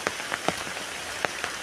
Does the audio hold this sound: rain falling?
yes